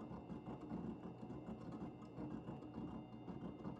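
A Rikon 8-inch wet sharpener runs with its stone wheel wobbling, giving a steady close mechanical hum and whir with a faint rhythmic churn and no talking.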